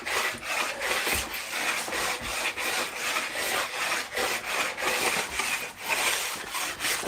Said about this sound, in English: I'm not trying to create big shavings. I'm literally just skimming it.